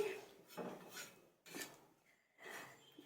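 Dry moong dal stirred in a dry pan gives a soft, gritty scraping rasp in several short bursts with brief pauses between them. It sounds fairly faint and close, with no talking.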